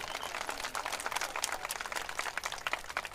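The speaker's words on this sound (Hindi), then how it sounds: "देखिए ताली बजा रही है।" Women in the audience at a political rally in Solapur clap steadily, with dense overlapping claps from a crowd that continue evenly throughout at moderate distance.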